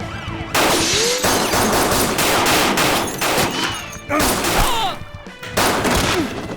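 Bursts of rapid gunfire in a Turkish TV drama street scene crackle loudly in repeated volleys, separated by brief pauses, with faint whistling and a siren-like wail between them.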